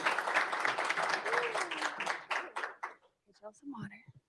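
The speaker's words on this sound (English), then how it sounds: "Y'all give them a big round of applause." An audience at a tech summit claps as two speakers walk onstage, a broad burst of applause that fades out after a few seconds, followed by someone speaking close to the microphone.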